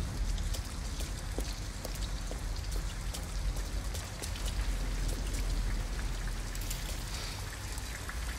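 Steady rain falls in Detroit: Become Human, a dense, continuous patter of drops hitting surfaces at a loud, even level throughout, with no voices over it.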